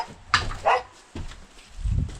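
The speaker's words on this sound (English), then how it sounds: "You finding something new to bark at, Willow?" A dog barks a few times in short separate bursts, fairly close, at an RV cleanup site by a creek.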